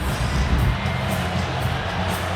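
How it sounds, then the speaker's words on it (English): Basketball arena crowd reacting to a replay of a groin-area foul on the big screen, a broad sustained roar of many voices with rising oohs, continuous and dense throughout, no clear individual speech. "Perhaps you heard the crowd as soon as they saw it on the big screen. You heard the oohs."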